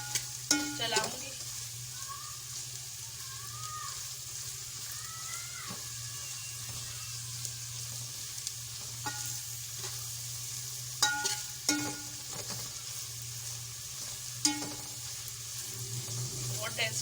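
Onions frying with whole chillies in a pan for keema, a low continuous sizzle with a steady hum beneath, broken by spoon scrapes and sharp clinks as the mixture is stirred, with a brief voice early on.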